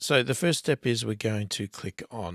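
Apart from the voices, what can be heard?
No everyday noise stands out behind the speech.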